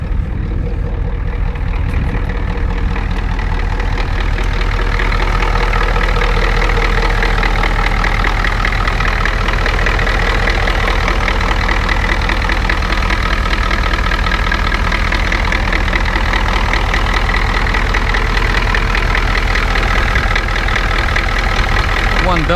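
A diesel project truck engine idles steadily and loudly up close, a continuous low, even rumble with a faint knocking rhythm throughout.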